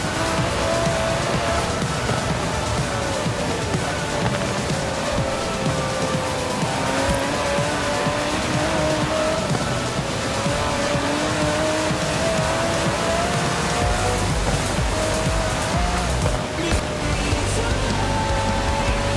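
An Aston Martin DB11 drives in Forza Horizon 4, its engine a steady, continuous drone with faint tire squeal, loud and unbroken for the whole stretch, with no talking.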